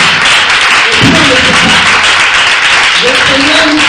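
A church congregation applauds loudly to acclaim the Lord, the dense clapping holding steady and close while voices call out within it.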